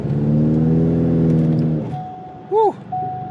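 A Ford Mustang with a 10R80 transmission held on launch control, its engine revving steadily at full throttle and then dropping off as the tires break loose and spin, loud and close, with a brief high squeal near the end.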